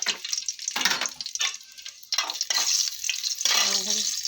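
Green chilies hit hot mustard oil in a wok with loud bursts of sizzling and spitting that swell and fade several times, close by and with no talking over them.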